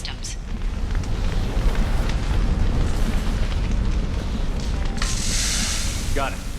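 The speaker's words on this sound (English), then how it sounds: "Vasir, these damaged pipes are on fire" Fire roars from damaged pipes blocking a stairwell in the Mass Effect 2 video game, a steady loud rumbling blaze with a hissing burst of fire suppressant spray near the end.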